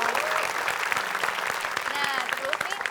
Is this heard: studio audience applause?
yes